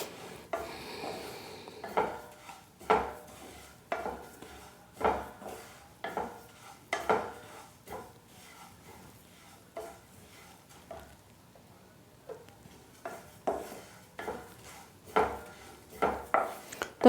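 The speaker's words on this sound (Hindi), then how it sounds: "तो इसको चलाते हुए भून लेंगे।" Sesame seeds are stirred while roasting in a pan over a low flame, giving a steady series of soft scraping, rustling strokes in an even rhythm, close and fairly quiet, with no voices.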